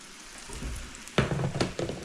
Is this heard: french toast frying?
yes